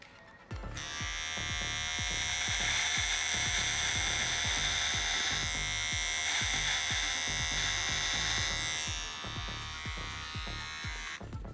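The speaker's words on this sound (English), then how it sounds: "I'm going to hold the trimmer in two hands, okay? Two hands for stability. Switch it on." A handheld electric beard trimmer buzzes steadily while freehand-shaping a beard, its close, continuous motor hum broken by rapid rhythmic clicks as the blades glide along the hair for about ten seconds.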